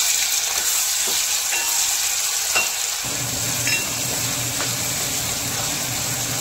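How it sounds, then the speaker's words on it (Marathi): Tomatoes frying in hot oil for a cauliflower and potato curry, with a loud continuous sizzle and a few stirring scrapes near the start. "जेस्ट झालेला आहे, यामध्ये टमाटर घालते आहे।"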